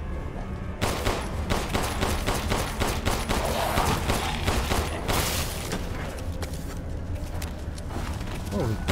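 Gunfire from Resident Evil Village fills the game audio, with dense rapid volleys and booming shots that run continuously over a rumbling background.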